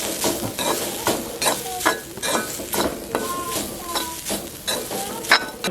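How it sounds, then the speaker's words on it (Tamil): Grated coconut and curry leaves are stirred in a hot pan, with a spoon scraping and tapping in quick repeated strokes over a soft, steady sizzle, close and clear. "இதையும் ஒரு 2 தரம் கிளறுவோம்"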